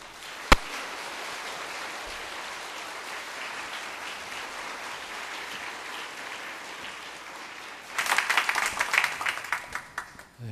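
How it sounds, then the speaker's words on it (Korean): A church congregation at an anniversary thanksgiving service gives a long, steady round of applause to welcome a pastor, a sharp knock near the start, then louder, more distinct claps swelling near the end. "이제 목사님 나오실 때 여러분 한번 뜨거운 박수로 환영해 주시면 감사하겠습니다"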